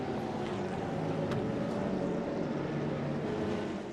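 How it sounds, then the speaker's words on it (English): A KTM race car, freshly fitted with a new engine and gearbox during the Hankook 12H Kuwait endurance race, drones with a steady engine roar that holds at a constant level throughout. "The clamshell is closed, the new engine is fired, and Team Razun More Than Racing is back on track."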